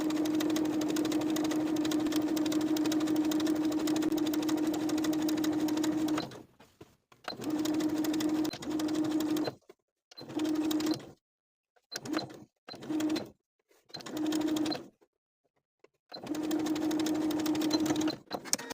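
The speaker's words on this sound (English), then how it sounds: "Now I'll take this to the machine and edge stitch the bias tape in place." A sewing machine edge-stitches bias tape onto a vintage apron, running in a loud close whirring burst for several seconds, then in short stop-start runs separated by silences, ending with another longer stretch of stitching.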